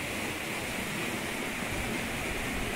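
Water rushes fast through a paddy field channel in a steady, continuous broadband roar, close and loud, with no talk.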